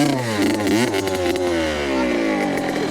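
A Yamaha YZ65 dirt bike's engine revs and climbs in pitch as the learner rider releases the clutch, a loud, buzzy two-stroke drone with rising and falling harmonics, close to the listener.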